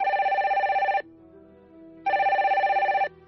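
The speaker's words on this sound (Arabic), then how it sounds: "ما أن دخلتها رن هاتفها." A mobile phone ringing inside a car, two loud electronic rings of about a second each separated by a short gap.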